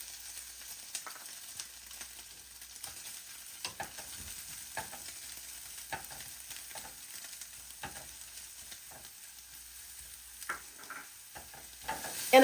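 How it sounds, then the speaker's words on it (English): Cooked crab meat heats in melted butter in a pan, giving a soft, faint sizzle with repeated light stirring taps and scrapes across the whole stretch, no voices. "We're gonna add our crab meat."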